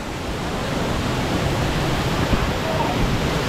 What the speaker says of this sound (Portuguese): nessa maravilha, nessa cachoeira que a gente está aqui